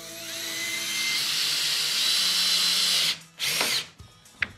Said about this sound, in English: And we're just gonna drill through all these at one time.